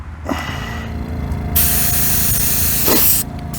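An airbrush set at 30 psi hisses in a steady, loud spray of House of Kolor pagan gold paint lasting nearly two seconds, preceded by a few soft clicks and faint background noise.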